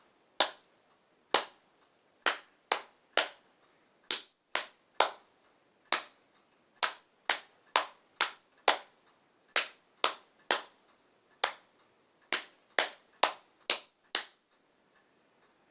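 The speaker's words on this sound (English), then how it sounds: "Can you clap it while I pat it?" Hands clapping and patting out a steady rhythmic pattern in a music lesson, with sharp, close percussive hits arriving in short repeated groups, about two dozen across the span, with no talking.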